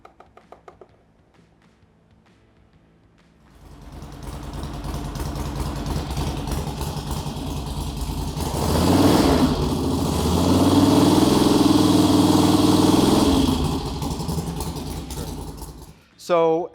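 A Sportster motorcycle engine idles, then revs up into a louder, sustained roar before settling back down, with a short sharp sound at the very end.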